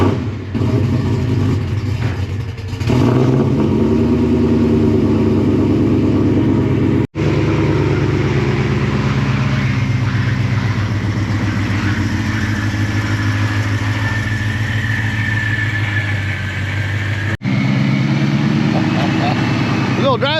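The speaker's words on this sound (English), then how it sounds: "we are cleared to go wide open throttle" A supercharged Coyote V8 in a 1979 Fox-body pace car revs hard at wide-open throttle, a loud sustained engine roar with a rising whine, while people talk over it.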